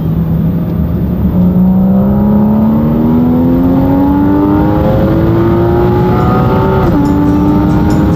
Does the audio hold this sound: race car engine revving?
yes